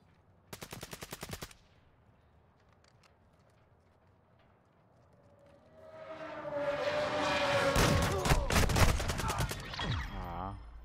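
Rapid bursts of gunfire in a Modern Warfare 2 match: a short close volley early, then after a lull a sustained, dense barrage of overlapping shots and clatter that swells loud and rolls on for several seconds.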